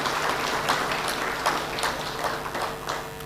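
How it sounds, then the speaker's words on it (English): An audience at a launch event for a national payments strategy claps for the central bank, a steady wash of applause at moderate level without speech. "Can we clap for the National Bank,"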